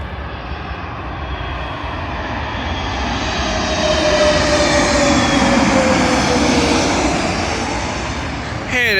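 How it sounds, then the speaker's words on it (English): A British Airways Airbus A321neo jet on landing approach to London Heathrow runway 27L, its engine roar swelling steadily from a distance to a loud, broad rush overhead with a faint rising whine. "Arriving in now is a British Airways A321neo, working a service from Glasgow to London Heathrow."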